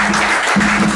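Dense crowd applause at a Sunday church service, steady and loud, filling the space with a broad clapping wash.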